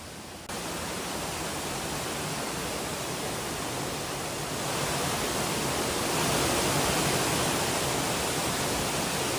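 Floodwater pours down steps into a Tokyo metro station in a dense, constant roar of rushing water that grows slightly louder partway through.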